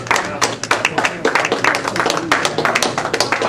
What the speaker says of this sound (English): Let's give a big, rousing round of applause for Mr.